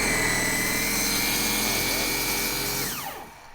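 Power washer motor runs loud and steady at close range, a dense whining drone that then winds down and drops off near the end, no voices.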